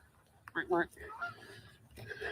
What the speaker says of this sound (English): Hey, there goes the geese.